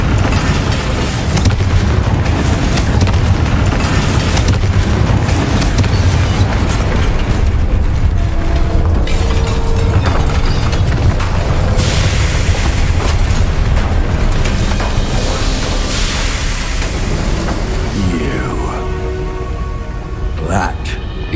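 A Confringo fire spell explodes in Hogwarts Legacy as a heavy, sustained booming rumble that fills the whole stretch, loud and dense, with game voices over it.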